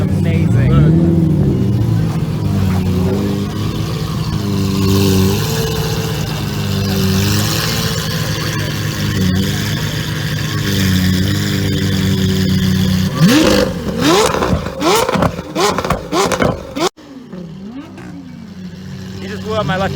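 A Lamborghini Aventador engine revs and roars loudly close by, with people talking over it, then a few sharp throttle blips before a sudden cut and quieter idle.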